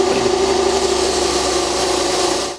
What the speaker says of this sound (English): I'm going to trim them down a little bit with the grinder